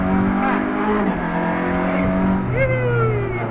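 A Caterham sports car accelerating hard, heard from inside: engine pitch climbs through the revs, drops sharply at a gear change and climbs again, loud and close, with people talking over it.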